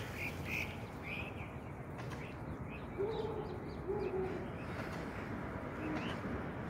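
A bird coos softly on a rooftop terrace at sunset, its low repeated calls rising a few times over steady outdoor background noise, moderately near but not loud.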